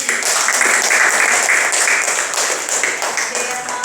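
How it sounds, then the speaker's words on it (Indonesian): A school audience at a junior high literacy event in Cikarang Barat bursts into applause, a dense, sustained clapping from many hands that holds steady and tapers slightly toward the end. "Tepuk tangan dulu."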